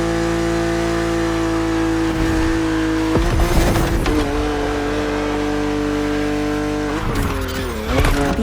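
A BMW Z roadster races in The Crew Motorfest, its engine droning steadily under a higher whine, then surging with sharp revs and brief tire squeals and skids around 3 and 7 seconds, loud and close throughout.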